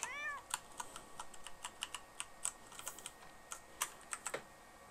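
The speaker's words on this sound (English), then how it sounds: "It's just a cat sleeping outside." Short, high meows from a cat in The Sims 4 rise and fall early on, then give way to a string of faint, crisp clicks like keyboard typing, all quiet with no talk.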